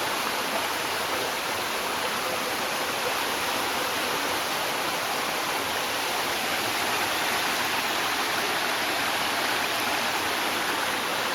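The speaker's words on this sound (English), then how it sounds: "so it's actually just a river." A river near Cane River Falls flows steadily, its broad rushing water unbroken and close throughout, with no voices over it.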